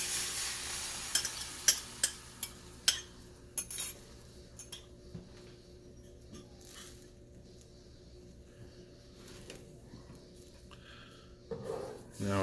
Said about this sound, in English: Now I'll stir it around like I normally would with a scrambled egg